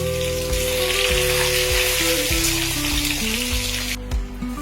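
Eggs fry in white oil in a hot wok, a constant, close sizzle and crackle that runs the whole way under soft background music, with no talking.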